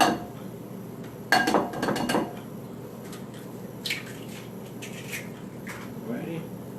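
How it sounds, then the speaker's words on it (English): Eggs cracked into a bowl in a kitchen, with a couple of sharp taps and wet drips followed by faint clinks, quiet and close. "So you crack your eggs."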